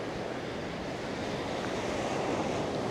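Sea waves wash beneath Lowestoft pier on the Suffolk coast, a continuous broad rushing surf mixed with wind buffeting the microphone, steady and fairly loud with no voices.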